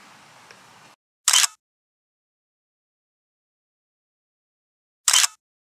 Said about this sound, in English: I'm gonna snap a few photos for you